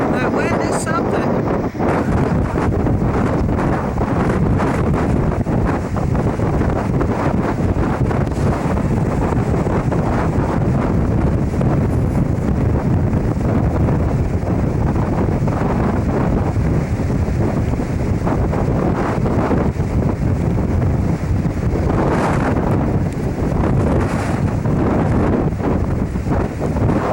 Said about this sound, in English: That wind is something.